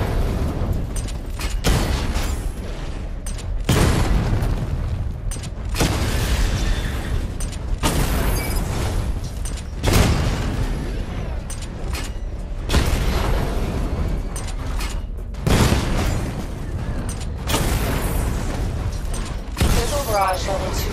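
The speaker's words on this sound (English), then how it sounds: "Charge the missile barrage to level 2 to destroy up to 4 targets at once." Missile barrage from the video game Batman Arkham Knight: a string of loud, heavy booms and bursts recurring every couple of seconds, dense and continuous over a rumbling low end, with game voice audio mixed in.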